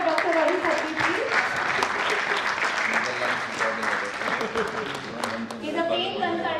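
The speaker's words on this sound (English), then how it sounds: "So big clap for Dr. Rajiv Khatri, please." Sustained applause from a crowd at the closing ceremony of an international sports and exercise medicine conference, dense clapping throughout with a few voices mixed in, fairly loud and steady.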